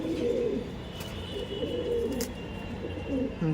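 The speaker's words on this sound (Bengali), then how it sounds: "তার আগে একটু দেখাই পায়রা" Pigeons of an old Andhra breed line cooing, a close, continuous low throaty burble that keeps on with a few brief higher sounds over it.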